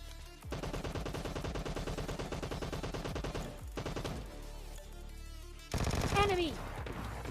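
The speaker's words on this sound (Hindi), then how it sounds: "भाई बंदे गन फाइट करना स्टार्ट कर देते और भाई मतलब बहुत तगड़े गन फाइट की साउंड आ रहे थे" Rapid automatic gunfire crackles through a battle royale video game firefight, a long steady burst of rattling shots followed by shorter volleys and a sharper, louder flurry near the end.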